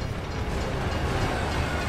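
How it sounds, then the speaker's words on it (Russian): Train rumbling along the tracks in the video game Gears of War 3, a steady dense low roar with broadband rail noise, loud and continuous without any talk. "там поезд ехал"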